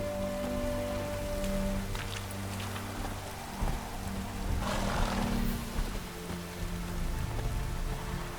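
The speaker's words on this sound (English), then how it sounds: "No use doing any work in this rain." Steady rain in the video game The Witcher 3: Wild Hunt patters continuously with scattered drops, a soft hiss under occasional low rumbles and a few brighter splashes midway.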